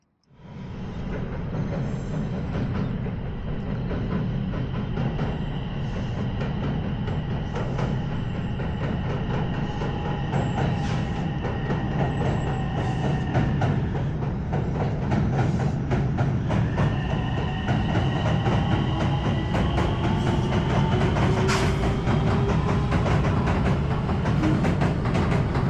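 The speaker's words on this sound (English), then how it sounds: "And here's the train in the other direction, heading towards Hiroshima." A train passes close by near Aki-Nagatsuka station on a line heading to Hiroshima, a steady loud rumble with wheel clatter and faint squealing tones that holds for about twenty-five seconds with no one talking.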